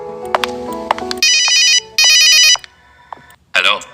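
A telephone rings loudly in two sustained electronic bursts, preceded by a short tonal melody, with a voice starting just after the ringing stops.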